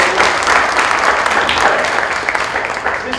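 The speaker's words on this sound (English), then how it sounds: "Big round of applause to Avery." An audience gives a participant named Avery a big round of applause, a thick, continuous wash of clapping from a crowd, loud and sustained with a voice faintly in the mix.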